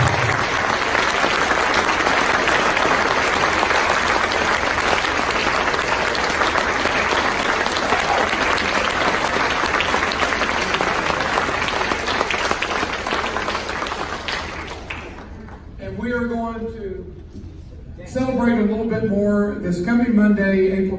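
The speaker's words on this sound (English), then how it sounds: "they deserve a good hearty round of applause for all of you" A school band and orchestra audience gives a long, hearty round of applause, dense steady clapping for about fifteen seconds that fades out, followed by a voice speaking over the quieter room.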